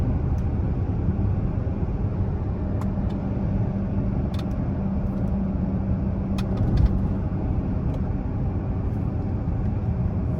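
A V6 Dodge Charger cruises down a road, heard from inside as a steady, loud low engine drone and road rumble that holds evenly throughout with a few faint clicks.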